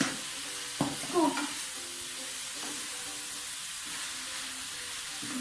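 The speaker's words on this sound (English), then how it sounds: "Everything is still being stir fried at the moment" Steak marinated with ginger and garlic stir-frying in a pan for a Korean gochujang chilli beef dish: a steady close sizzle with a couple of clattering stirs early on, then an even hiss.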